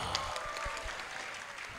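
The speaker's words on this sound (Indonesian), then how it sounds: "Kalian nggak tahu Jangka Harapan itu apa, tapi tepuk tangan." Brief, fairly faint applause from a young audience at an Indonesian youth mission gathering panel session, a soft, continuous patter of clapping in a large room.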